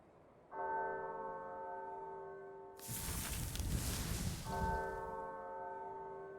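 A sustained bell tone rings out in the video game Unworthy, interrupted midway by a loud noisy burst before the ringing resumes and holds steadily to the end.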